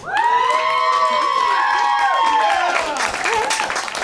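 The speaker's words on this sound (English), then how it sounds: "clap now if you would like to see Faith read somebody's palm" A live comedy show audience at a small venue claps and cheers loudly, with whoops and shouting voices over steady applause lasting several seconds.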